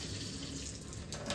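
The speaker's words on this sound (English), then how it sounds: "And then turn the water on low." Kitchen faucet running on low into a sink, a steady soft stream of water heard alone without talk, even and continuous throughout.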